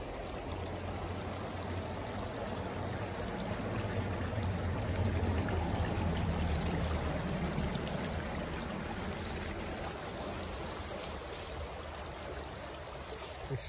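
Steady rushing of water through a sluice gate beside an old corn mill at a village entrance, a constant close, even flow with no breaks.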